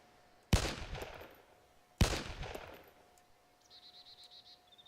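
Two loud, sharp rifle shots about a second and a half apart in the DayZ video game, each with a long ringing tail, followed by a faint run of quick, evenly spaced ticks.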